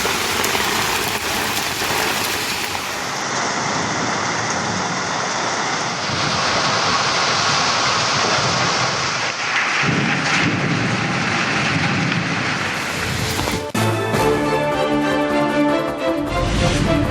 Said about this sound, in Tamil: கோவை மாவட்டம் வால்பாறையில் ஆலங்கட்டி மழை.